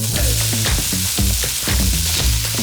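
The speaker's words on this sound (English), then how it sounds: "Toss your pork into a hot wok or a frying pan and just give it a stir fry until it's warmed through" Pork stir-fried in a hot wok sizzles loudly and steadily, with rhythmic scraping and tossing clatter from a utensil repeating every fraction of a second.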